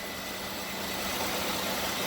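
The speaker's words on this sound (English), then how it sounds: "Typical 3800 Series 2 engine. She sounds really, really good." A 3800 Series 2 car engine idles smoothly and steadily, a close, even broadband rumble with no voices.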